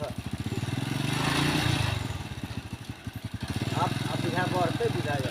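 A motorcycle engine runs close by with a rhythmic chugging that rises and falls in loudness, while people talk over it.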